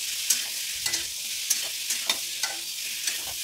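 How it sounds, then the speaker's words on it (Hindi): Masala for kadima (pumpkin) sabji sizzles steadily in a pan while a spoon scrapes and stirs it in irregular clinks roughly every half second, close and clear with no talking. "मसाला को अच्छे से फ्राई करना है।"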